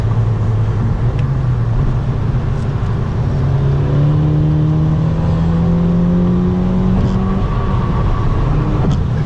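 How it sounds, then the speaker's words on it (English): A very fast car with Brembo brakes, reaching about 135, accelerates hard: a loud, continuous engine drone rises steadily in pitch through the gears, heard close from inside the cabin. "This car is so fast."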